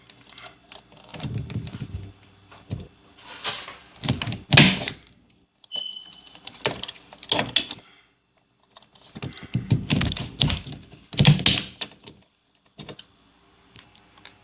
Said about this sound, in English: you push it down, it'll trigger a release and it will force the pin in at the same time